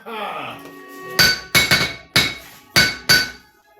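A blacksmith's hammer strikes metal five times in an uneven rhythm at a forge, each blow ringing sharply; a voice is heard briefly before the strikes.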